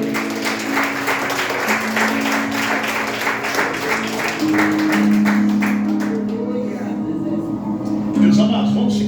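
A church congregation claps and applauds together, a dense, sustained wash of hand claps that continues for several seconds, with a voice speaking and sustained keyboard or organ tones underneath.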